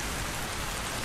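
Steady, dense rainfall on a surface, a continuous even hiss with no breaks and no voices.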